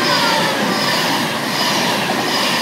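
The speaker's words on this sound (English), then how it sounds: "And for the final train today, it's a class 390." A Class 390 Pendolino train passing through Eccles station on a cold, rainy night, a loud continuous rush of wheels and rail noise with a high metallic ring, close and steady.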